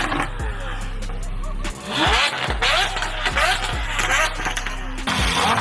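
Lamborghini Aventador V12 at a car club meet beside a Ferrari 812: a loud, continuous engine roar with repeated sharp pops and crackles as it revs, heard close and without talk.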